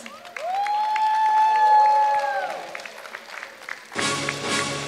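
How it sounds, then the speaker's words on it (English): A burst of audience applause at a preprimary school Independence Day celebration erupts near the end, clapping breaking in suddenly and loudly after a sustained tonal sound. "Give a huge round of applause."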